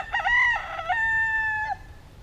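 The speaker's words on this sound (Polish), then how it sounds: "Koguty pieją." A rooster crows loudly nearby in the Philippines, one long drawn-out cock-a-doodle-doo with a rising start and a sustained tail, alone over quiet background.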